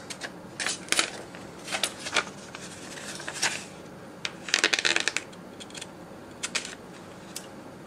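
Scissors trim excess washi tape from a Hobonichi Weeks planner page, giving a run of crisp, close cutting snips in short irregular bursts against a quiet room.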